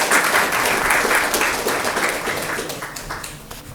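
Audience at a coaching seminar applauding a student's question, a loud dense burst of clapping from a large crowd that gradually thins and fades.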